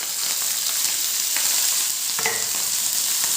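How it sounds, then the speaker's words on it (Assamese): Vegetables sizzle and crackle in hot refined oil in a wok, a steady close frying hiss with occasional scraping clinks of stirring. "ৰিফাইন গৰম হৈ গ'ল, এতিয়া ভেজখিনি দি দিম মই"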